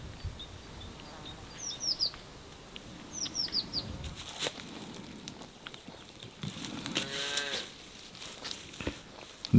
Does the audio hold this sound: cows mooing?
yes